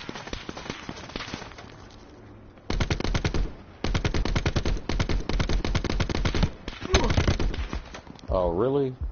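Rapid bursts of automatic gunfire from a PS4 shooter game crackle in dense volleys with short pauses, loud and close, while players talk over the action.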